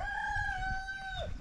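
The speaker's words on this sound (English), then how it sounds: "Rooster, chicken, hens, making that morning." A rooster crows once, loud and near, a long sustained call that falls away at the end, with a faint low rumble beneath; a morning farmyard at a rural bush home.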